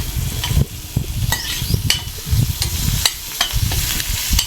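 Garlic and curry leaves sauté in hot oil for a soup, a steady close sizzle broken by several sharp stirring scrapes, with no talking.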